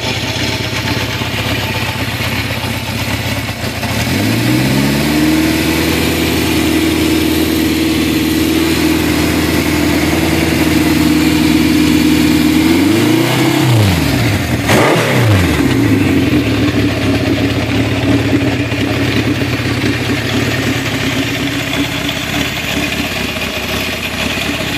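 A 1969 Honda CB750 Sandcast motorcycle with freshly tuned carburetors idles steadily and close, rising into a couple of quick throttle blips near the middle before settling back to a smooth idle.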